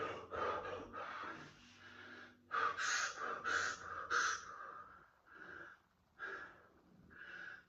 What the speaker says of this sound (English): I just can't get that big breath in.